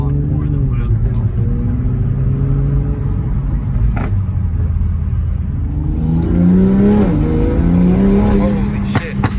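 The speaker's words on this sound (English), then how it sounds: "I can hear the turbos" A tuned 500 hp turbocharged Mk5 Toyota Supra accelerates hard from inside the cabin, its loud engine drone climbing steadily through the gears with turbo whine rising near the end, and voices underneath.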